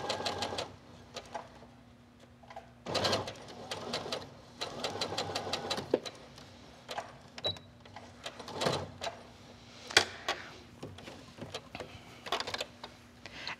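A sewing machine stitching tucks for a bolster pillow, running in short bursts of rapid mechanical whirring and clatter with brief pauses between, fairly close and moderate in level.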